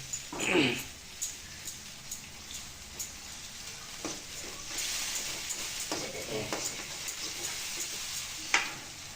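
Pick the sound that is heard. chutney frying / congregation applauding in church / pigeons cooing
chutney frying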